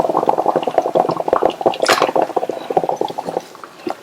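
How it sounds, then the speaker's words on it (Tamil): Jaggery syrup poured from a strainer into a pot of mashed rice and lentils on a stove for sakkarai pongal, a close, wet stream of splashing and bubbling with soft clinks of the pot. "மறுபடியும் ஸ்டவ் ஆன் பண்ணிட்டு வடிகட்டு வச்ச வெள்ளக்கரைசலை இதுல சேர்த்துக்கலாம்."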